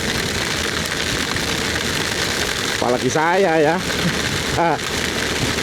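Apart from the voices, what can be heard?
heavy rain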